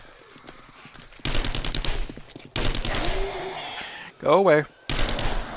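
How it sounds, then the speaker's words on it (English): SMG fire in the survival game 7 Days to Die comes in loud rapid bursts separated by short pauses, with a brief shout and another voice between them. "Let's actually pull out the SMG a little bit."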